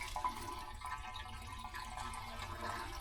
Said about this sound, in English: when the water level builds up, which we want it to do really slowly, it will just float across the top of the concrete as it's doing here